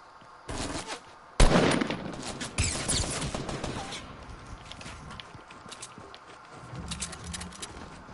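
A burst of Fortnite battle royale gunshots, one sharp loud crack followed by a scattered flurry of shots and clatter that trails off into quieter game noise.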